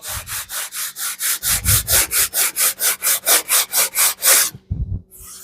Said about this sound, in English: If you want to have a good straight edge, and sand it on there, nice and straight.